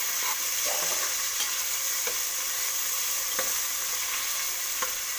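A chopped tomato frying in a pan until soft hisses continuously up close, while a spoon taps and scrapes the pan every second or so.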